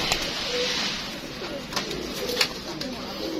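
Soft pigeon coos repeat against a steady background hiss, with a few faint chirps and clicks mixed in.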